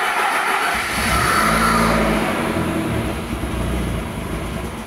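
A car engine cranks and catches, then revs up loudly and settles into a steady, slightly falling run while brakes, dampers and springs are being fitted; close and continuous with no talk.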